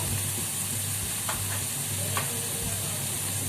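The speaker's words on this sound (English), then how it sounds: "Give it a good stir." Red chili, turmeric and coriander powder with salt are stirred into a sizzling pan, a steady close fry hiss with a few soft spoon scrapes, no voices.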